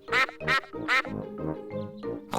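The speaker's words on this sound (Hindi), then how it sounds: "देखो, वहाँ तालाब में बत्तख है।" A series of loud, nasal duck quacks in quick succession, close and clear, about half a dozen calls in a bouncy rhythm.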